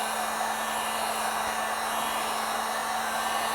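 A heat gun blows hot air steadily onto the back of a Premium Knee Pad from an Arctic Cat Catalyst kit, a continuous close, even whoosh with a faint tonal hum and no talk.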